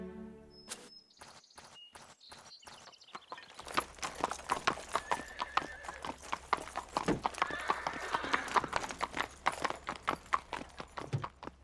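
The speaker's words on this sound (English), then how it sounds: "What a beautiful horse." Cartoon horse hooves clip-clop in a steady walking rhythm, loud and close, with a few brief neighs and other cartoon effects mixed in.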